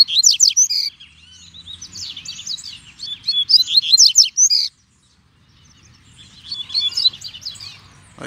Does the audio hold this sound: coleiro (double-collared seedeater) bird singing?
yes